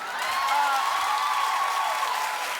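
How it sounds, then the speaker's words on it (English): Studio audience at a daytime talk show clapping steadily and loudly, a continuous dense applause with some cheering mixed in. "Stop with the clapping"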